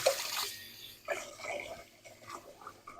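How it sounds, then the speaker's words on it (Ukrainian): Cold tap water running over an opened oyster as it is rinsed, a soft irregular splashing and trickling with brief louder gushes, fairly quiet and close. "Обов'язково ми її промиємо під холодною водою"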